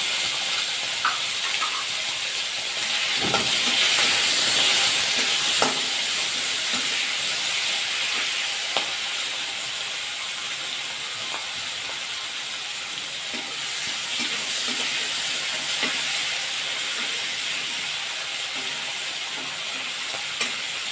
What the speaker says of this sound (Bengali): একটু হলুদ আমি চিংড়ি মাছ আর লবণ মাখা মাখা কড়াইতে দিয়েছি